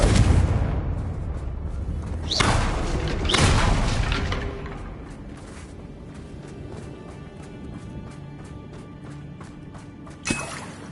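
Confringo fire-blast spells exploding during combat in Hogwarts Legacy: two loud, close booming blasts early on, a fading rumble afterwards, then one sharp crack near the end, with no voices.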